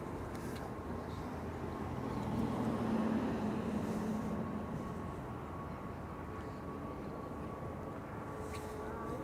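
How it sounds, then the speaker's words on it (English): An American Airlines Boeing Dreamliner jet at Amsterdam Schiphol Airport gives a faint, distant steady engine rumble that swells slightly for a few seconds before easing back to a low drone. "An American Dreamliner."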